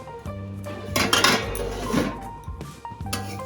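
Metal cooking pot holding Basanti pulao has its lid lifted and handled, giving clanking, ringing metallic knocks and a scraping rattle at close range, with short resonant clinks near the start and end.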